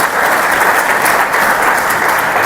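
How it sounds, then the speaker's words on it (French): Conference audience applauding a minister at an annual cashew industry conference, a loud, dense and continuous roar of many hands clapping with no talk over it. "J'aimerais vraiment qu'on félicite et qu'on applaudisse Monsieur le ministre d'État"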